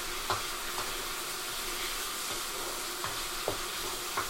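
Vegetables with garlic and green onion stir-frying in a pan: a steady, dense sizzle and hiss fills the background, with a few soft clicks of stirring on top and no talking.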